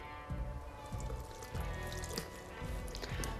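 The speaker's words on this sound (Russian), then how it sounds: "Губку мне необходимо немного смочить водой." Water runs from a tap over a dish sponge being wetted at a sink, a steady splashing and trickling with soft squelches, close up.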